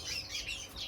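Small birds chirp and tweet in an indoor breeding bird room, a quick overlapping flurry of high calls, fairly faint and without talk.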